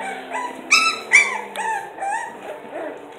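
Four-week-old American Bully puppies whine and yip close by, a run of short high-pitched cries and whimpers, some sharper than others, with no one talking.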